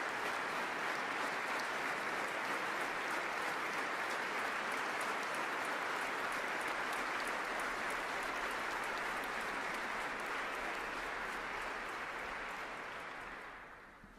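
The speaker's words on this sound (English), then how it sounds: "Everyone in City Hall on their feet in applause for the words of this year's Nobel laureates" Standing ovation from a packed City Hall audience at the Nobel Peace Prize ceremony, honouring laureates from the Japanese group Nihon Hidankyo: dense, steady applause sustained throughout, tapering off in the final second.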